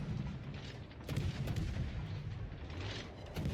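Naval guns from a destroyer in a World of Warships-style game fire several heavy booming salvos over a constant dense rumble of battle noise, each shot landing as a loud, broad thud.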